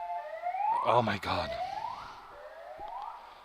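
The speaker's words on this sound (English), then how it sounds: "those sirens" A wailing siren sweeps up and down, fairly distant and steady, while a person exclaims briefly over it.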